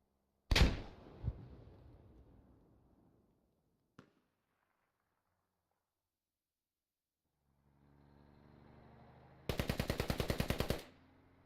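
Gunfire in a Squad firefight: a loud crack at the start, a lone shot near four seconds, then a rising rumble giving way to a rapid burst of automatic fire near the end, with no talk.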